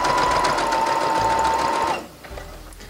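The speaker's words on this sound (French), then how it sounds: "Puis là, je vais venir coudre en place ma bretelle." A sewing machine stitches a fabric strap into place, running steadily and loudly for about two seconds before stopping, followed by quieter handling noise.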